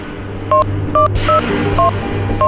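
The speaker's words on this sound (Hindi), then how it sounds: "तू ऐसा कर, उस नंबर पे डायल कर" A telephone number is dialed on a keypad: a series of short, evenly spaced touch-tone beeps, five in all, clear and close, over a steady low background hum with a brief rustle midway.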